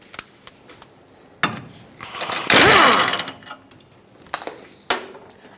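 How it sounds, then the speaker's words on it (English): A 15mm socket wrench works bracket bolts loose on a 2003-2009 Dodge RAM 2500, with sharp close ratchet clicks, a longer burst of rapid ratcheting in the middle, then scattered metallic knocks. "Use a 15mm socket and remove these bolts."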